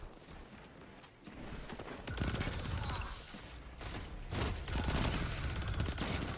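The Manticore SMG, a new exotic weapon in Destiny, fires in sustained bursts of rapid gunfire with mechanical clatter, fairly quiet overall and growing denser in the second half.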